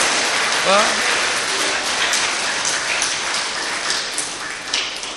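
Large crowd applauding at a religious discourse, dense and steady clapping like heavy rain that carries on through the whole stretch, with a brief voice heard near the start.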